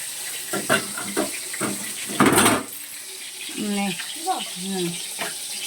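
Water splashing and running from a tap as fish are washed in a kitchen sink, with clattering pots nearby and someone talking over the steady stream.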